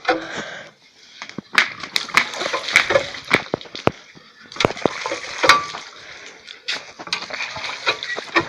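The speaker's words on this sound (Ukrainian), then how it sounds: "Зараз води йому накачаємо." Water gushes and splashes in uneven bursts, with wet sloshing and occasional sharp clanks, close by.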